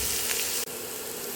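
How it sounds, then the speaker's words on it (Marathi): Onion frying in a pan with ginger and garlic added for a Marathi cashew and green pea curry, giving a steady, close, continuous sizzle with one brief dip partway through and no talk. "आता हे चांगलं भाजून घेते, ह्याच्याबरोबर अद्रक आणि लसूण भाजून घेते."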